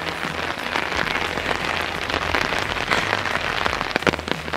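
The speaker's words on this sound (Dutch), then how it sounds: "het regent pijpensteen" Heavy rain pours down steadily outdoors, a dense, continuous hiss of drops striking surfaces close by, loud and unbroken throughout with no voices.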